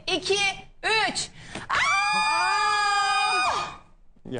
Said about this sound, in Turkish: Tüm Türkiye çığlık olsun, nara için atıyoruz.